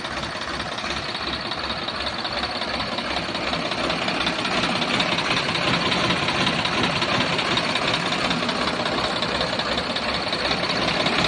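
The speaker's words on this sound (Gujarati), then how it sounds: "સોનાલિકા 745." A 2011 Sonalika DI 745 tractor diesel engine idles close by, a loud, steady knocking rumble with an even, rapid beat that holds unbroken throughout, with no talking.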